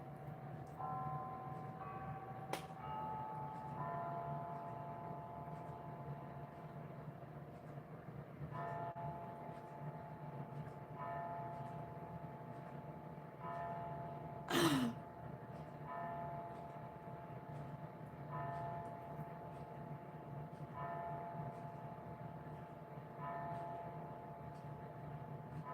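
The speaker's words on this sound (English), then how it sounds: "We have Westminster chimes here at Lilleybugglane, friends." A repaired household clock plays the Westminster chimes indoors, a steady run of ringing bell tones repeating every few seconds at moderate level, with no talking over it.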